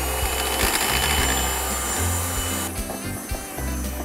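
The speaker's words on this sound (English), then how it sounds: "using our mixer." An electric mixer beating muffin batter with flour and cocoa powder, a loud close whirring and grinding with rhythmic scraping pulses that briefly dips and changes pitch partway through.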